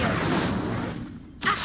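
A fire spell (Incendio) cast in Hogwarts Legacy flares up as a short whooshing burst near the end, after a steady rush of game ambience dips briefly.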